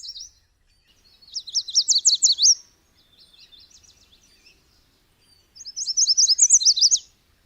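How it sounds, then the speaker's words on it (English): A yellow warbler sings bright, high chirping phrases in bursts, with a softer twittering phrase between them, clear and fairly close with no other sounds, near a pond and field in spring. "The sweet, little more sweet call of the yellow is just, for me, one of those signs of spring."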